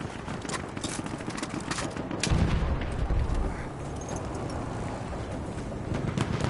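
A Lewis gun machine gun firing in the video game Battlefield 1, sustained rattling bursts of rapid shots over a dense battlefield din, close and steady throughout.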